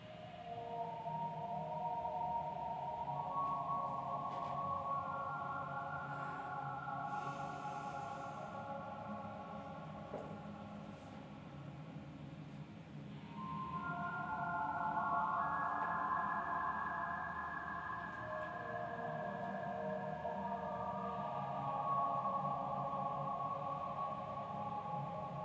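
Slow, sustained tones from the Serum synthesizer swell and overlap in long washes, drenched in reverb and delay, fading gradually between phrases.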